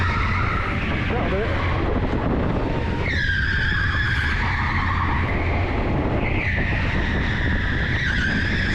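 Electric go-kart at TeamSport Preston rolling down a track ramp, with steady loud rushing and tire-skid noise throughout and rising high whine tones from the electric motor.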